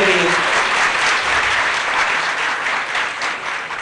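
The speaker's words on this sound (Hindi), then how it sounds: "इस बात पे सब पे ऊंची ताली बज रही है।" Dense, sustained applause from a large audience at a public event launching a Green Punjab app fills the space loudly and evenly, tapering only slightly toward the end.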